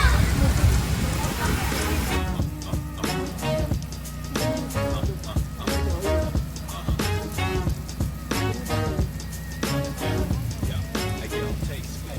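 Steady rain patters on a surface nearby at a camping site in Tanay, with voices and sharp intermittent knocks over the constant hiss.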